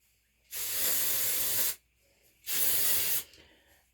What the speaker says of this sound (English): You just want to spray kind of in that root area of your hair.